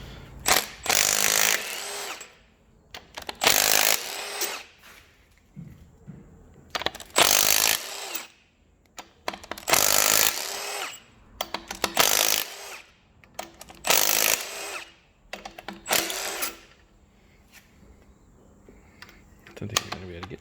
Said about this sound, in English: Milwaukee fuel impact wrench.